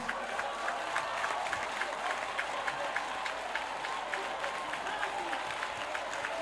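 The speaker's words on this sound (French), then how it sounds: "Acclamation à Jésus de Nazareth" A congregation at a church convention applauds steadily and densely for several seconds, a sustained wash of many hands clapping with faint crowd voices underneath.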